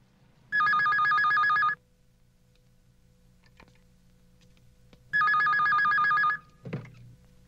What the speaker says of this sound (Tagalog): Sir, telepono ho.